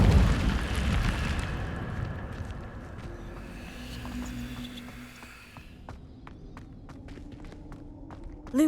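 A fire spell cast in Hogwarts Legacy on PS5: a loud rushing, roaring burst of flame fills the first few seconds, then tails off into quieter ambience with scattered light clicks and small effects.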